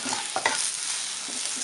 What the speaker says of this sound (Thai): เดี๋ยวจะผัดนิดนึงเริ่มสุกใกล้จะสุกแล้วนะคะ